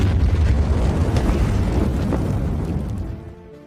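A landmine explodes on a beach, a deep rumbling blast that roars loudly then slowly dies away over a few seconds, heavy and booming with no voices.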